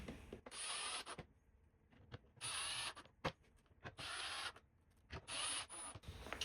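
A power drill drives a screw into a part in repeated short bursts of high whirring, about five pulses separated by brief pauses and small clicks, close and alone without talk.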